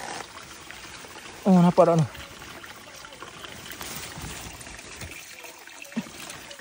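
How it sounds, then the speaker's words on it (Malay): Spring water trickles and pours steadily out from under a rock on a hillside, a low continuous wash with a voice speaking briefly over it. "Air tubik kot di bawah batu."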